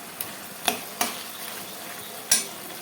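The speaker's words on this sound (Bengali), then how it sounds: "এই দেখো মশলাটা আমি এবার ঢেলে দিয়ে নাড়াচাড়া করে নিয়েছি তো এই দেখো মাথাগুলো দিয়ে দিলাম" Hilsa fish heads go into a pan of spices, giving a soft continuous sizzle broken by a few sharp clinks and scrapes of a spoon stirring against the pan.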